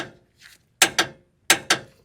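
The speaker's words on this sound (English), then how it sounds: "Just take your impact, get it close, and then we can torque it down the rest of the way." Impact wrench tightening a lower control arm bolt on a 4th gen Toyota 4Runner, two pairs of sharp, loud hammering bursts with a faint mechanical whir before them and no talk.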